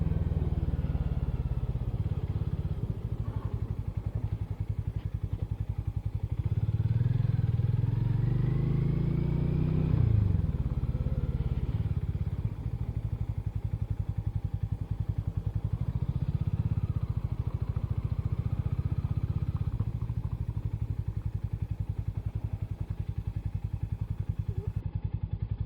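Hero Hunk 440 motorcycle idling and rolling to a stop as it is parked, a steady low engine rumble with a brief rev and clunks, fairly close, no talking.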